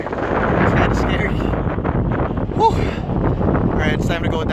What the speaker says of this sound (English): Oh man, it's really windy up here.